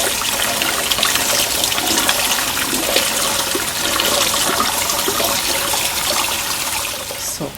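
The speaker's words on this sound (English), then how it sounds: "After remove hot water, should be washed cold water." Cold tap water gushes and splashes over freshly cooked spaghetti in a strainer, a loud, close, continuous rush that tapers off at the end.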